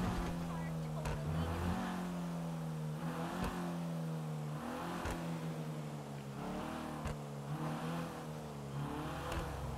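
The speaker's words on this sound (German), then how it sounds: "wir nehmen wieder unseren Audi. Fahren mal hoch zu uns." Audi car driving along with a steady engine drone that rises and falls in repeated revs and gear changes, heard from inside or close by, fairly quiet overall.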